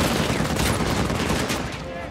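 Rapid, loud machine gun fire from an enemy in Uncharted 4 rattles continuously in a dense burst, close and unbroken.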